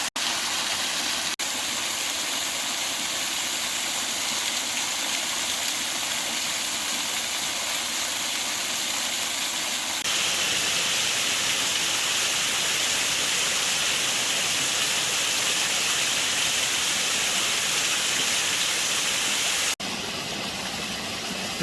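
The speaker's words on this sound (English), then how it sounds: "This morning's been the morning of waterfalls." A waterfall along the Ozark Highlands Trail roars in a loud, unbroken rush that fills the whole stretch, shifting slightly in intensity midway, with no voices.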